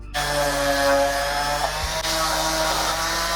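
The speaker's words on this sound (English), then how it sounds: "I'm gonna go ahead and sand this all out" Power sander running steadily on a wooden moon phase trinket holder, a loud, continuous close-up whine with a slight dip in the middle and no talking.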